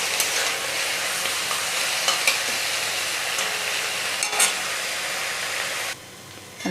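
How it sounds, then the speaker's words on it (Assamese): Onions for mutton curry hiss and sizzle steadily in hot oil, with a spoon scraping and stirring through them. The loud frying carries on without pause, then drops abruptly to a softer sizzle near the end. "এইখিনি ৰংচোৱা হোৱালৈকে মই এনেকৈ ভাজি থাকিম"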